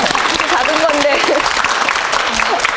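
A studio audience at a Korean television talk show applauds in a steady, full wash of clapping, with people talking and laughing over it.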